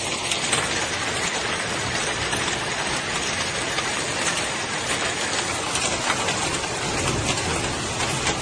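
Heavy rain pouring during a hailstorm with squally winds and a fierce thunderstorm, a dense, steady roar of drops hitting surfaces that stays loud and constant throughout with no talking.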